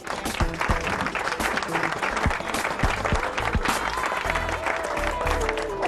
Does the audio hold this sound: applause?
yes